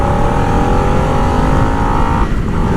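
A new Harley-Davidson Nightster motorcycle with a 975cc Revolution Max engine runs loud and close, a dense continuous engine roar with a slight shift in pitch near the end.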